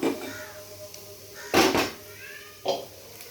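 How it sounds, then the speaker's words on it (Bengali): A kadai (wok) is set down on a stove while moong dal is being cooked in a home kitchen, giving two short, loud clattering knocks against a quiet background. "এখানে একটা কড়াই আছে, আমি কড়াইটা চাপিয়ে দিলাম।"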